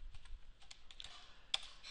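Quick, irregular clicks of keys being typed on a computer keyboard, close by, with a slightly louder keystroke near the end.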